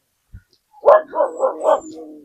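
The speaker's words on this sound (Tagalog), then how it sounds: "malalaki na yung mga aso ni Tay Willie" A large dog at a rural home gives a short series of four rapid, close barks, loud and rough, trailing into a brief whimpering tail.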